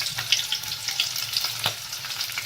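Onions frying in a pan for spiced potato rice (masale bhat), with a steady close sizzle and the scrape and clatter of stirring throughout, no voices.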